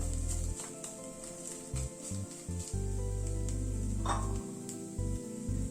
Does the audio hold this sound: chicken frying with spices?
yes